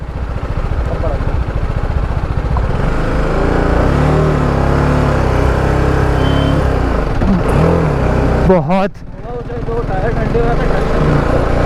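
Motorcycle ridden over a rough, strange road near the Lambi Dehar mines in Uttarakhand, its engine droning loud and close throughout with bumps and a brief dip in the noise near the end.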